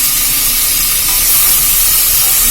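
Onions sautéed in a pan with green chillies, tomatoes about to go in, give off a loud, dense, continuous sizzle and hiss close by, steady for the whole stretch with no voices.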